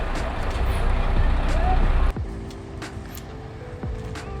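Heavy trucks idle and rumble in a stalled traffic jam in Madagascar, a steady low engine drone with a sharp air-brake hiss cutting off partway through, then quieter idling with faint horn-like tones.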